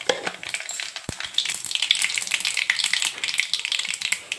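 Cumin and mustard seeds crackle and fry in about two tablespoons of hot oil for a fenugreek-leaf and tomato chutney, a steady close sizzle with dense popping ticks and one sharp low knock near the start.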